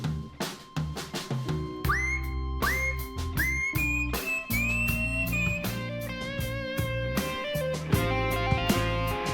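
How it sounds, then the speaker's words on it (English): A whistled solo melody rides over a recorded song demo built on iPad, with sustained, bending whistle tones over steady guitar and backing instruments, clear and prominent in the mix. "I took out the whistling, whistling solo in the final cut"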